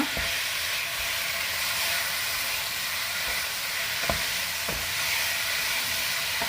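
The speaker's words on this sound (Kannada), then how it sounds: "ತುಪ್ಪ ಹಾಕಿ ಸ್ವಲ್ಪ ಮಿಕ್ಸ್ ಮಾಡುವ." Carrot halwa with ghee is stirred in a hot pan, a constant close sizzle and hiss with a few faint scrapes of the spoon against the pan.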